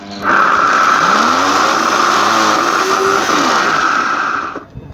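A discarded vacuum cleaner motor found in the trash, plugged in and foot-switched, whines and struggles to start with a loud rough droning hum and wavering pitch for several seconds before cutting out.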